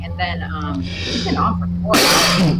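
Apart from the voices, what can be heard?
sneeze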